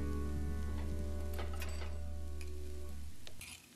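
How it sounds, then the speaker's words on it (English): Onions and four large garlic cloves sauté in a pan, giving a steady close sizzle over a low constant hum with a few light clinks of stirring, and the sound trails off near the end. "I'm also going to add 4 large garlic cloves, which I will saute with the onions"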